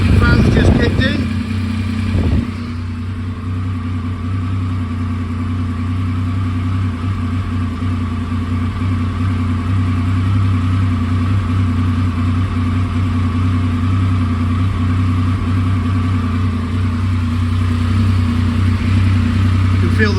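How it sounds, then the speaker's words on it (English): An idling Triumph Sprint 955i RS motorcycle runs with its cooling fan whirring, a steady low engine drone and constant fan hum holding level after a brief clatter at the start. "Fan's just kicked in."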